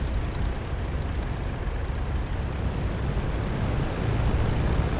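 A small airplane's engine idles at steady RPM before takeoff, a continuous broadband propeller drone heard up close and loud throughout, with no voices.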